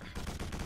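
A short burst of rapid gunfire in the shooter Quake 4, loud and close, several quick shots running together in under a second.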